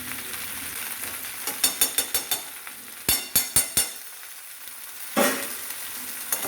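Potato and pea curry with tomato ketchup sautéing in a pan, a low sizzle broken by bursts of quick spoon scrapes and taps against the pan, close by with no talking.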